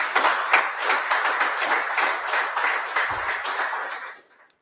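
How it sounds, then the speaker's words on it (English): An audience at an entrepreneurship dialogue event gives entrepreneurs a round of applause, dense close clapping that holds steady for about four seconds before cutting off abruptly. "let's give all entrepreneurs a round of applause"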